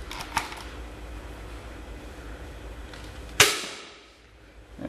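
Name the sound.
modified Nerf Nitefinder blaster firing a dart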